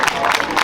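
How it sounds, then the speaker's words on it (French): Applause from an audience at an equestrian show-jumping event rolls on as a dense, continuous wash of clapping, close and loud throughout the brief moment. "Mille merci pour ces applaudissements"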